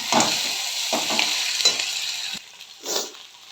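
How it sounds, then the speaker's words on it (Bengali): Boiled Maggi noodles fry and get stirred with onion and tomato in a pan, a steady sizzle broken by a few scraping stir strokes, loud and close, then quieter after a pause. "ম্যাগিটা একটু বেশ ভালো করে ভাজা ভাজা হোক।"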